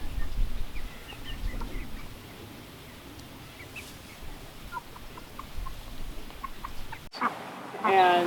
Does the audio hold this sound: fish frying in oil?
no